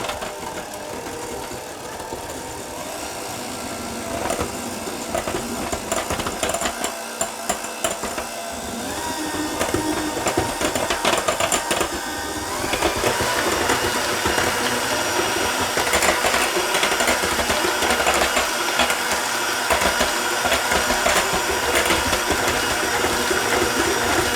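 An electric mixer whirs through mascarpone cake batter for a chocolate chip cake, a loud, steady buzzing drone that grows stronger partway through and runs on without any talking.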